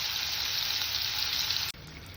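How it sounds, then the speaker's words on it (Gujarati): Onions sizzle steadily in hot oil with cumin seeds and asafoetida, a constant bright frying hiss close up, briefly dipping near the end. "જીરું તતડે એટલે હિંગ નાખી ડુંગળી વઘારી દઈએ."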